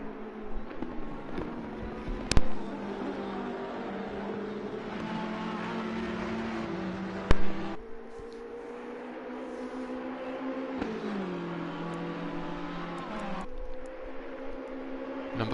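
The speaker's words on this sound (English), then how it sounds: "Number 441 Bentley next to cross that start finish straight" Race cars on the Monza circuit, a Bentley among them, roar along the start-finish straight, engines droning steadily with rising and falling pitch as they pass, and a couple of sharp knocks rise above the continuous motor noise.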